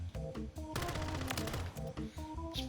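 Rapid bursts of automatic gunfire from a low-recoil weapon on a video game firing range, loud and close, with short volleys broken by brief pauses and a sustained stretch of fire in the middle.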